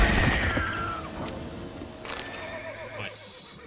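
A horse in The Witcher 3 on Skellige neighs loudly with a long descending whinny, over clashing combat sounds and a low game ambience, with brief shrill calls near the end.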